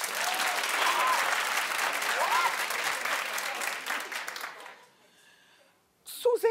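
Studio audience at a daytime talk show breaks into loud, dense applause with a few whoops, holding steady for about four seconds before tapering off into near silence, then a voice cuts in at the end.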